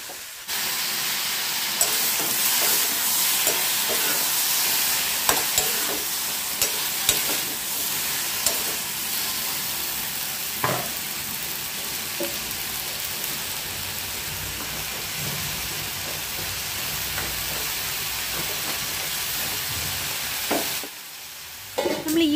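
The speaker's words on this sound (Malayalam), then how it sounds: "ഇത് രണ്ടും കൂടെ ഞാൻ നന്നായിട്ട് എണ്ണയിലൊന്ന് വഴറ്റും" Okra and tomato sautéing in hot oil, a dense, even sizzle like rain on a surface that runs for over twenty seconds, with occasional clicks of stirring, close and loud, then a brief drop near the end.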